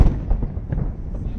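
A fireworks salute over Palace Square booms as deep, heavy rumbles. Dull thuds repeat over a sustained low roar, with voices underneath.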